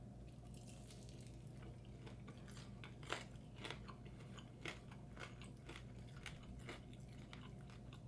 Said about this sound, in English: You hear the crunch. You hear it.